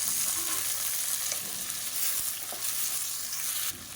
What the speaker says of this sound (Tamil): இப்போ எண்ணெயிலே நல்லா வதக்கி விட்டுக்கலாம்